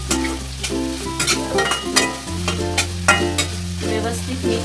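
Carrots and mixed vegetables being stirred in a frying pan, a steady sizzle with repeated scraping strokes of a spoon against the pan, close and fairly loud, with no talking.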